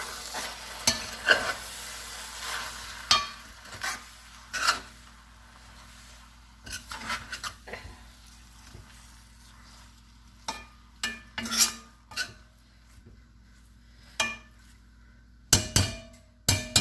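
A spoon scrapes and clatters through corned beef brisket stew with flour in a pot, in irregular bursts of stirring separated by quieter gaps with a faint sizzle underneath.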